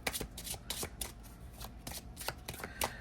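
Oracle cards with a semi-gloss finish are shuffled in a steady run of quick riffling bursts, close and crisp, with no talking.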